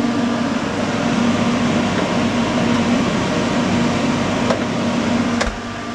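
The large fan of a chiller runs in a steady, even whir with a low hum, continuous and fairly loud, dropping slightly at the very end.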